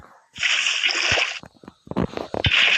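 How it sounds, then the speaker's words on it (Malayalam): Water poured in Minecraft gives a bright splashing rush lasting about a second, then a few short gurgling sloshes and a second splash at the end, close and clear. "വെള്ളം എടുത്ത് അവിടെ ഒഴിക്കുക"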